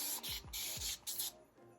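Spray bottle misting water onto long locs, several quick bursts of hissing spray in close succession, near and clear with no talking.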